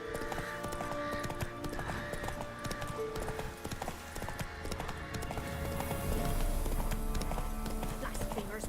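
A horse galloping in The Witcher 3 video game, steady rhythmic clip-clop hoofbeats throughout, close and moderately loud, mixed with game ambience and a brief whinny-like tone.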